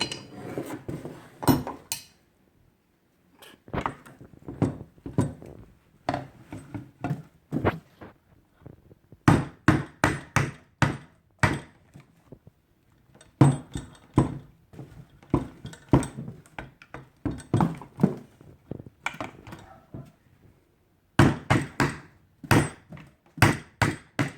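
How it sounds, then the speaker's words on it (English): Sharp metallic knocks of a hammer striking a screwdriver to knock out a plug on a new garbage disposal, close by, in irregular bursts of quick taps separated by short pauses. "I'm going to use my screwdriver and a hammer to pop it out"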